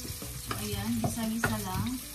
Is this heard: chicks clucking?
no